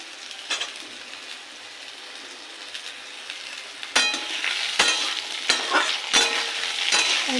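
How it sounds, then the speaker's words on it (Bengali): Sliced ridge gourd and potato sizzling in a pan, a steady close frying hiss broken by several sharp scraping stirs in the second half. "এটাকে একটু ভেজে নেব।"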